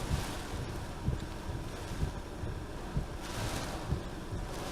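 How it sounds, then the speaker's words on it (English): Very strong straight-line wind during a tornado warning in Ellsworth, Wisconsin, buffeting the microphone in a loud, continuous roar with recurring gusty thumps. "Very strong straight line wind right now in Ellsworth."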